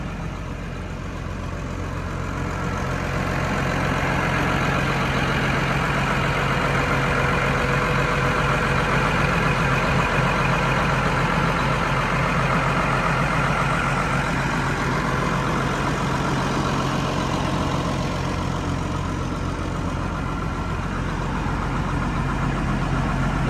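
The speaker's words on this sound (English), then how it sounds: "the sound of that engine." A farm vehicle's engine runs steadily for the whole stretch, a continuous low idling rumble with a mid-range drone that holds at a constant, fairly loud level with no talking.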